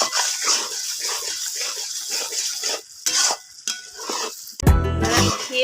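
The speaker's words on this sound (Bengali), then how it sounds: "এবার দিয়ে এই কুমড়োটাকে ভালো করে নেড়ে নেব" Pumpkin for a sweet pumpkin dessert is stirred in a pan with scraping, clattering strokes over a faint sizzle, with a loud burst of pan noise near the end.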